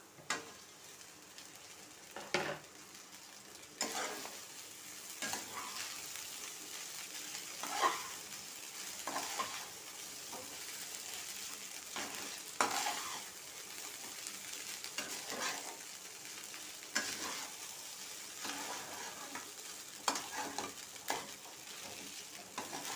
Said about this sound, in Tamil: சும்மா ஒரு நிமிஷம் மட்டும் வதங்கட்டும்